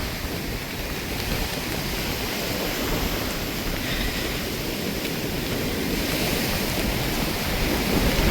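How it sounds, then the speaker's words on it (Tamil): Sea waves washing onto a fishing shore make a steady broadband roar of surf, mixed with wind buffeting the microphone, continuous and fairly close throughout. "இதுதான் எங்களுடைய கடல்"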